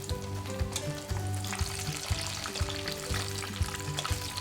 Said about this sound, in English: Deep fry until deliciously golden brown